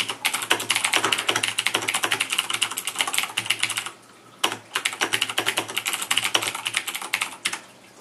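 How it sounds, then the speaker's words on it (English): Rapid clicky keystrokes on a fully mechanical keyboard with Cherry MX blue switches, two bursts of steady typing separated by a short pause, close and crisp with no voices. "This keyboard is fully mechanical, and I'm going to type a quick little sentence."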